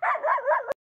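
A single short, high bark or yelp from a small dog, close and fairly clear, ending abruptly.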